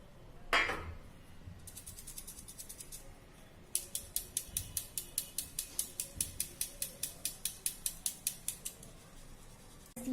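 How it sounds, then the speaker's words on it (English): Dried starch granules are shaken through a fine-aperture sieve, making a quick, even series of faint, close metallic clicks and rattles after a few scattered scrapes. "Now I'll pass them through the sieve which is having small aperture size."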